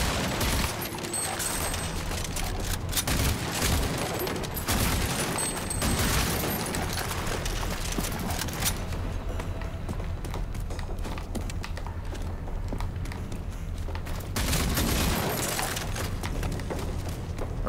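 Gunfire and combat noise from the video game Rage 2 in a sewer level, dense rapid shots and impacts in bursts with a lull in the middle before another heavy burst near the end, steady and loud throughout.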